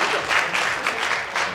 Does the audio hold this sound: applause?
yes